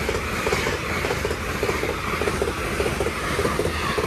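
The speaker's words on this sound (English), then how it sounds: "First service passer is an LNER service off to Edinburgh Waverley." An LNER passenger service bound for Edinburgh Waverley rushes past the Hett Mill level crossing, a steady broadband roar with faint rhythmic wheel beats, close and continuous throughout with some wind buffeting.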